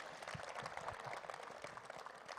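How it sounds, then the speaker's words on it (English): Applause from an audience at a cricket team's jersey launch event, a steady dense patter of many hands clapping at moderate volume, continuing without a break and without speech. "Round of applause for them as well."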